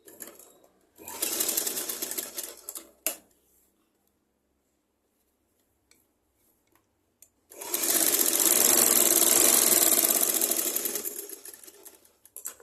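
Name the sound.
sewing machine stitching a blouse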